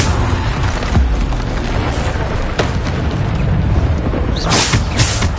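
Bombarda spell blasts in the video game Hogwarts Legacy, several booming bursts of noise standing out over a dense, continuous layer of game sound, with no talk.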